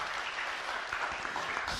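A room full of people applauds steadily at a healing talk, a dense, even patter of many hands that carries on without pause.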